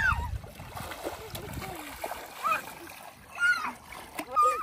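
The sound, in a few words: children splashing in water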